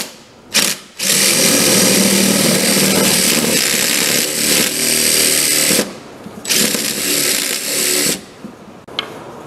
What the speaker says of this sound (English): Now I'll try to copy that angle with my 5/8 inch bit.